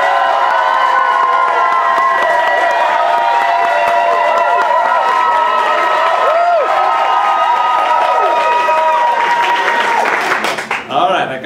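Loud, sustained clapping and cheering from a crowd voting for a team at a school event, with many shouting and whooping voices, including children, over continuous applause that breaks off near the end.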